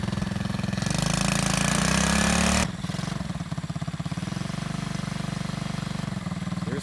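A 110cc Chinese ATV engine is revved hard with a steady loud drone, then eases back to a pulsing idle-like chug, close up with no talking.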